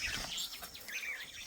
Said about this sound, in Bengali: কি সুন্দর এই যে পাখিগুলা কিচিরমিচির